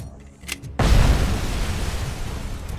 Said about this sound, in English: the explosions are very loud